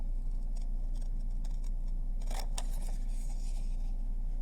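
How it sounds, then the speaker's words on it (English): Scissors cutting very carefully around an original paper shape, a series of soft, close snips over a steady low background hum. "I want to cut the original shape very accurately"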